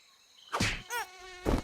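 A mosquito buzzes close by in a few whining passes, its thin, high drone rising and fading in short bursts against quiet surroundings, with no voices.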